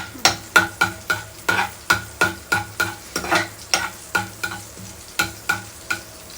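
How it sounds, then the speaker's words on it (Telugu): Whole spices, cinnamon and cloves, frying in a pan for paneer butter masala while being stirred, giving a steady rhythm of close scraping strokes about twice a second over a soft sizzle, with no talk. "కొంచెం దాల్చిన చెక్క, చెక్క, ఇది కొంచెం ఫ్రై అవ్వాలి"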